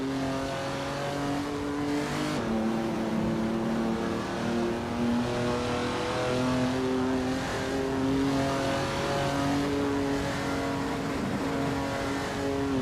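Several race car engines from a racing video game, including a 1953 Maserati 6GC S53, drone and whine steadily throughout, overlapping tonal engine notes shifting in pitch with no voices over them.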